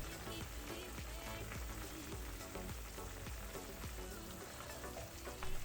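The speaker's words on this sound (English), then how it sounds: "Let it simmer for about 20 minutes. Stir a few times in the process." Sweet and sour sauce with pork ribs simmers in a pan, making a faint, continuous bubbling sizzle with soft pops throughout and a slight rise at the very end.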